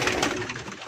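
Pigeons cooing inside a breeding loft, a steady close murmur of soft throaty calls filling the space with no talk.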